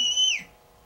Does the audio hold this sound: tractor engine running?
no